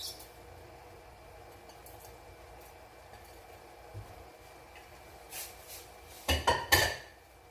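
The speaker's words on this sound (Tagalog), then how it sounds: "ihahalo natin yung ating cabbage sa ating bihon gisado" A utensil clanks against a pan as cabbage is stirred into Filipino bihon guisado rice noodles. Quiet kitchen background gives way to a quick burst of several metallic knocks near the end.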